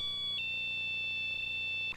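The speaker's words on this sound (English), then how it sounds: "Or just flip the switch and hear a pleasant chime." A Bell & Howell wireless alarm system gives a pleasant chime, two bright, sustained electronic tones ringing steadily over a faint low hum and fading at the end.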